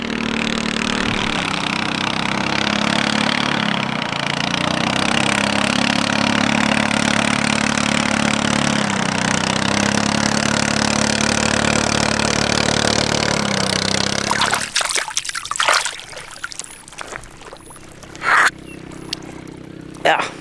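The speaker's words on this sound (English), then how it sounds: "I'll just wait for this noisy boat to pass" A noisy boat engine chugs loudly and steadily as it passes on a freshwater river in Uttaradit province, Thailand, then cuts away abruptly, leaving quieter scattered sounds.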